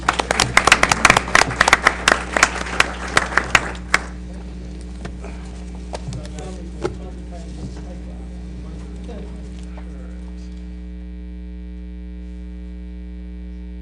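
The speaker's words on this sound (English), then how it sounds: "hope the audience will join me in giving them a clap and thank you." Audience clapping for panelists at a telecom policy workshop: a dense burst of claps for about four seconds that thins out and fades, leaving a steady electrical mains hum and faint room noise.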